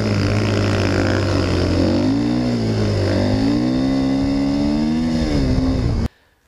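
Motorcycle fitted with a Camso DTS129 snowbike kit, its engine droning loud and close with rising and falling revs for about six seconds before cutting off abruptly.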